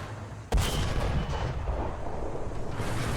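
KV-1E tank cannon firing in War Thunder, one sharp heavy blast followed by a long rumbling roll of echo and engine noise, loud and near, with no talk.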